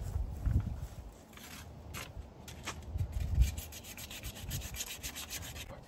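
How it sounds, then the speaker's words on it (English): Hand sanding a car wheel rim to prep it for gloss black spray paint, a steady rasping rub in repeated strokes with louder surges, close up and alone. "so now we're gonna start sanding on this side"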